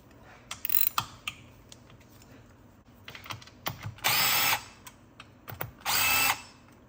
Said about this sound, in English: While supporting the separator plate with one hand, remove the last stiffener plate screw.